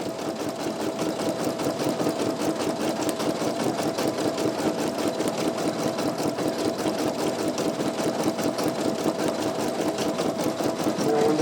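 A Brother PE900 or NQ1700E home embroidery machine stitching a design on fabric, a steady loud rapid needle rhythm with a continuous motor hum throughout, close and uninterrupted.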